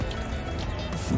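Waste pours out of a camper van's portable toilet cassette as it is emptied, a loud, close gush of liquid that sloshes and gurgles steadily without a break.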